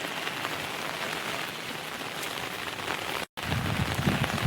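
A flooded stream rushes under a new bridge between Mandamarri and Ramakrishnapur, a dense, continuous roar of churning water that sounds almost like heavy rain, with a momentary dropout near the end.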